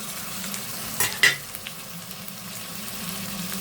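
Tomatoes with ginger garlic paste fry in a pan under a steady, moderate sizzle. Two quick scraping clatters of stirring come near the start, then the frying continues alone.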